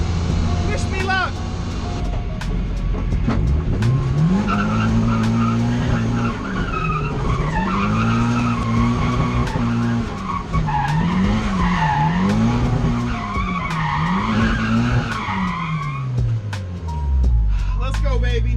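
A Nissan 240SX fitted with grippy tires drifts through a driveway, its engine revving up and down in long swells under loud, continuous tire squeal, up close, with a voice talking over the noise.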